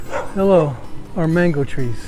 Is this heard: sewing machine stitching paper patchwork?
no